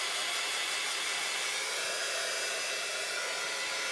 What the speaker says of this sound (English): So what I'm going to do is let's dry this off.